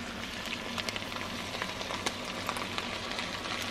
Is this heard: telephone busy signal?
no